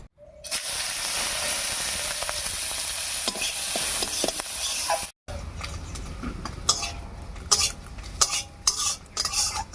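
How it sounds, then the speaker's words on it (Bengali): Chopped onion hits hot mustard oil left from frying dried fish, sizzling loudly with a steady hiss, then after a brief break a spoon stirs and scrapes the pan in irregular clatters over quieter frying. "এবারে শুটকি মাছ ভাজার তেলের মধ্যে ফোড়ন দেবো আর ফোড়ন দেবো শুধু পেঁয়াজ কুচি দিয়ে"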